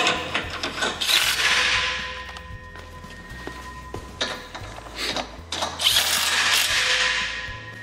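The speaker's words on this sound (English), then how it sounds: "We use a rattle gun, but they can be done by hand with a ratchet" Rattle gun (impact wrench) tightening handrail bolts on a portable retractable seating system, giving several short bursts of rapid mechanical rattling with pauses between them, close and fairly loud.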